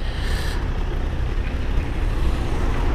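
A motorcycle pulls away on a poor, uneven surface, its engine a steady, close, low rumble that holds without a break.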